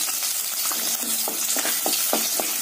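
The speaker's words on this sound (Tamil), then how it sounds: "எண்ணெய் காஞ்சிச்சு. வெங்காயத்தை நல்லா வதக்கிக்கலாம்." Onion sautéing in hot oil for a mint chicken gravy, a close, steady sizzle broken by short scraping strokes of a spoon, with no talking.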